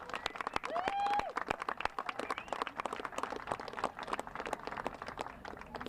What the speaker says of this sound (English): So let's give all of them a great big round of applause.